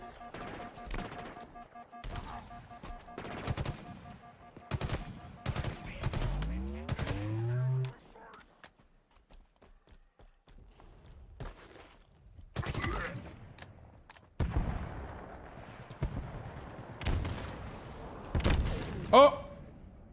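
Video game gunfire on Legendary difficulty, with bursts of shots and thuds scattered through the clip, loud in places and mixed with game sounds and a speaking voice.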